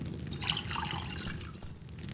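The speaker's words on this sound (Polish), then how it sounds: "Woda." Water pouring and trickling in the farming game Farmer's Life, a faint splashing, dribbling stream over a quiet background.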